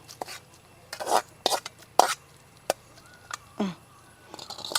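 Paal kappa, Kerala-style tapioca, is poured into a pan and stirred. Several separate scraping and clinking strokes of a utensil against the pan follow one another, with quiet gaps and a low hum between them.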